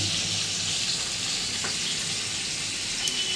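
Pieces of hilsa fish fry in hot oil, giving a continuous close hiss and crackle of sizzling at an even level throughout, with no talking.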